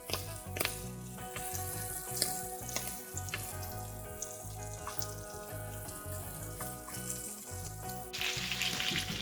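Chicken shashlik stick boti frying in a pan, a steady dense sizzle with crackling spatters throughout, close and fairly loud, with a brighter burst of hissing near the end; no talking.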